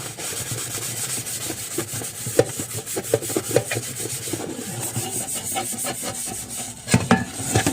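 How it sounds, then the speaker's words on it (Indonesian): A scrubber works burnt crust off a pan, producing continuous loud, gritty rasping strokes in a fast, uneven rhythm right up close, with no voices over the scraping. "Jangan lupa bagian bawahnya juga kita gosok"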